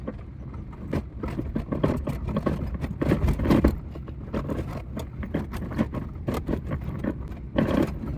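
A car rolls along an unpaved dirt road through the Gir forest, its engine rumbling under continuous rattling, bumping and scraping from the rough track, close and steady throughout.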